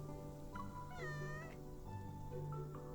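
A cat meows in the video game Shared Lanterns, a few drawn-out, rising and falling calls heard clearly over a soft steady background.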